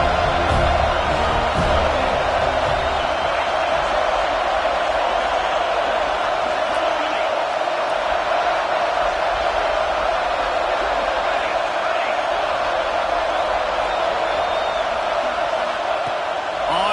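A college football stadium crowd at an Indiana versus FSU game gives off a constant, dense roar of cheering and noise, unbroken from start to finish beneath a commentator's voice.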